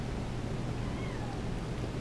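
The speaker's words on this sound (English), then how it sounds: "Say hi, Kitten." A cat gives a faint, short meow against a steady background hiss, quiet and somewhat distant, with no voices present.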